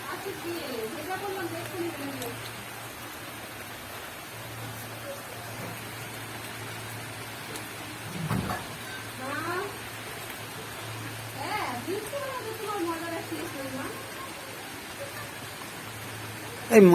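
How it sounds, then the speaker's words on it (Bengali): Heavy monsoon rain pours down in a steady, dense hiss that runs the whole time, while people talk over it now and then. "এই জোরে বৃষ্টি এসছে গো।"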